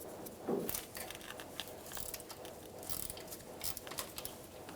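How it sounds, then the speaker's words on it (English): A ratchet turns a 24mm socket to loosen the oil pressure sensor on a 2.7L four-cylinder Toyota Tacoma, giving a quiet, close run of fine clicking pawl strokes in short bursts. "Using a 24mm socket, we're going to remove the oil pressure sensor."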